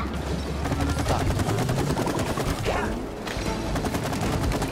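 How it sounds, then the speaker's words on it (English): Rapid gunfire rattles in It Takes Two as shots rain on a sword, a dense, continuous stream of quick pops set against busy game effects at moderate volume. "Then I'll shoot the sword. And then shoot at all of these."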